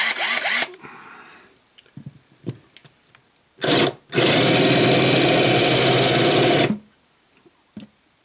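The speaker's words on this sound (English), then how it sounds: "little countersink thing" A power drill fitted with a countersink bit spins up in wood during a JLD Bridge Doctor installation on a guitar. It gives a short burst, then a long loud whine of about three seconds, with light handling knocks around it.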